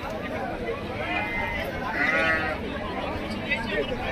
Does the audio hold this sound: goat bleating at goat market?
yes